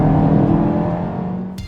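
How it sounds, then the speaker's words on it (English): A 2016 Mazda CX-3 crossover's engine drones loudly and coarsely under heavy throttle, a steady close-up rumble that eases slightly before cutting off abruptly near the end. "good pickup demands liberal use of the gas pedal, which has the engine sounding loud and coarse."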